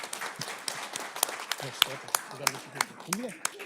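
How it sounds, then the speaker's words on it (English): Scattered, fairly faint hand claps from a school board meeting audience, irregular rather than a full ovation, with people talking over and between them. "How about one more round of applause for Cindy?"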